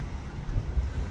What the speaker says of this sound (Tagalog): kaya ang lakas ng hangin eh